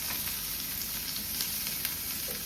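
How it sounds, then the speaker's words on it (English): Diced onion and chopped garlic sizzle steadily in hot olive oil in a pan, a soft, even frying hiss with faint crackles and no talking. "I've just got one diced onion and I've got 3 cloves of chopped garlic here. I'll just get that in and saute it down."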